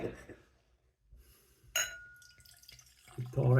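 Pom cider, a force-carbonated drink, pours into a glass with a close, trickling splash and faint clinks, swelling into a louder gush near the end.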